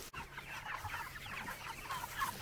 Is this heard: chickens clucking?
yes